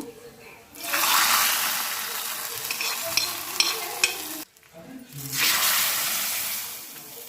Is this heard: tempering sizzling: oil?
yes